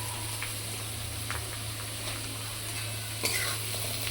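Noodles being stirred and mixed with noodle masala in a hot pan, soft scraping and light sizzling under a steady low background hum, with a sharper clink of utensil near the end.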